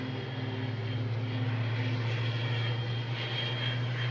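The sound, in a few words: Airbus A320neo airliner at Boston Logan airport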